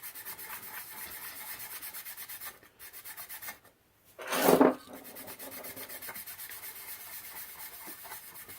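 Aluminum trim on a 1947 Scott 800B radio console being polished with Simichrome by hand, a steady close rubbing rasp with a brief louder swipe midway and a short pause before it.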